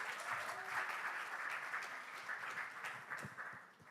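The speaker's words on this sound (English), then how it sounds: "Clap for Anna, everybody." Audience at a social media convention applauding steadily for about four seconds, a dense wash of many hands clapping that fades slightly toward the end.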